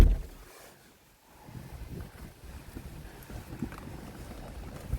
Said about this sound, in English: So windy and cold today.